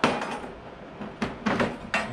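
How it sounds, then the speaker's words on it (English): Metal washers clatter into a bolt hole in a few sharp, close clinks, spaced irregularly with a short cluster near the end. "So I'm just throwing these washers on here"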